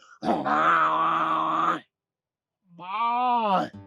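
A man imitates a buffalo with two long, deep groaning bellows separated by a short pause, the first drawn out and the second rising at its end, close and alone.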